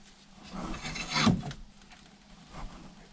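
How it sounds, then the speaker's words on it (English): A new bearing pressed into a KTM EXC 2025 rear shock by turning a vise: close, soft creaking and rubbing of the tightening vise, swelling to one louder grinding squeeze midway before fading, with no talk. "just by turning the vise the bearing goes in"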